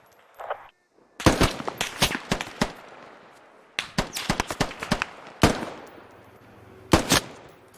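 Rapid gunfire rings out in a video game squad training exercise: bursts of sharp, loud shots arrive in quick clusters, some automatic and some single, with short pauses between them.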